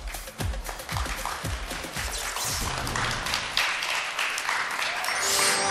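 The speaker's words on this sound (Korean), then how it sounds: "김태균 선수 여러분 큰 박수로 환영 부탁드립니다" An audience at a baseball defensive-award ceremony applauds a player's arrival: a few hollow thumps open into a dense, sustained wash of many hands clapping that carries to the end.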